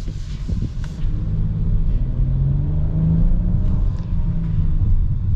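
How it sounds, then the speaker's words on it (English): A 2024 Honda Odyssey Elite minivan with a V6 and 10-speed transmission accelerates, a steady low engine rumble rising slightly in pitch as it pulls, heard from inside the cabin without talk. "I know not the best acceleration on the planet, but the V6, it's got pretty good power"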